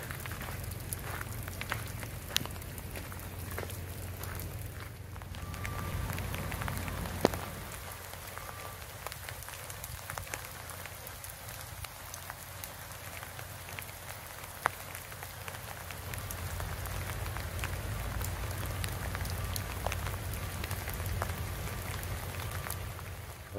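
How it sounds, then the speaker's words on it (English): Steady rain patters on surfaces outdoors beside a parked van, a continuous close hiss with a low rumble underneath and occasional sharper drop taps, no voices. "the rain is not quite so bad at the moment"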